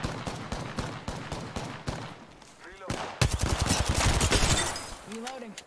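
Rapid automatic gunfire rattles in the video game Apex Legends, dense bursts of close shots with short pauses, while a voice briefly exclaims in between.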